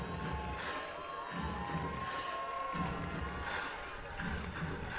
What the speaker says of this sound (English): Crowd getting fired up here.